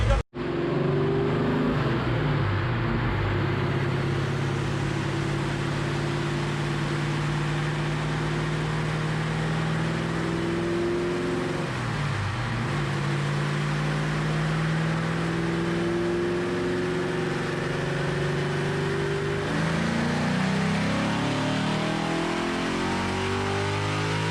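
Car engine revving hard during a pull on a dyno in a shop, a loud sustained climbing whine with rising harmonics that drops briefly midway before climbing again, close and continuous.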